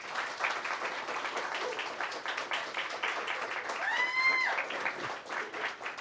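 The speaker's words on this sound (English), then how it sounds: "Clap it up for him." Audience applause at a staff appreciation luncheon, steady clapping of moderate loudness for a leader that swells slightly near the end, with a brief whistle-like tone partway through.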